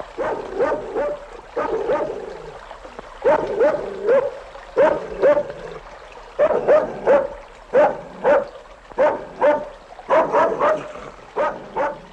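A dog barks repeatedly at close range in short bursts and quick rhythmic runs, with brief pauses between volleys and a few higher yips.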